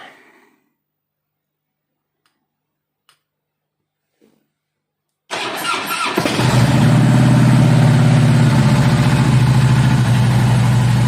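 A few faint clicks in near silence, then a fuel-injected Harley-Davidson motorcycle engine fires up and settles into a loud, steady, throbbing idle close by.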